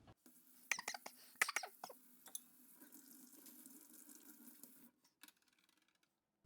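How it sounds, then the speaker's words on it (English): Hot water runs from a tap into a sink while a bong is rinsed, a close, uneven splashing with sharp clattering bursts early on, then a steadier flow that cuts off near the end. "getting your water as hot as possible and rinsing everything off"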